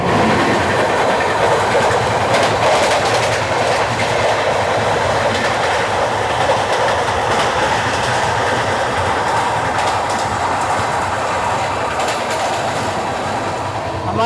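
The Mumbai–Ahmedabad Double Decker Express rolls past the Rajkot–Secunderabad Express in a loud, steady rumble with rail clatter and rushing air, heard from on board without any talking.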